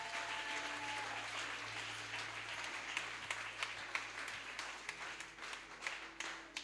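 A church congregation applauds at a prayer service, with steady, dense clapping that carries throughout and grows a little more uneven toward the end, under a faint background hum.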